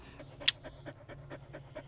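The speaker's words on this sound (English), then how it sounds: "If you would stop breathing, Trin, this would make this easier." A dog panting in quick, steady breaths, close by and fairly quiet, with one brief sharp noise near the start, during an at-home check of a healing suture.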